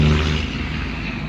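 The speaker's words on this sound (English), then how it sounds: "Hate these people with these loud trucks." A loud truck rumbles past outside a parked 1985 Pontiac Firebird, a deep, steady engine drone that is strongest at the start and eases slightly as it moves on, with no talking.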